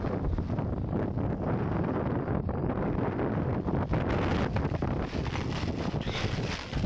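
Strong cyclone wind at a river port ghat in Narayanganj buffets the microphone continuously with a loud, roaring rumble, steady throughout with no voices.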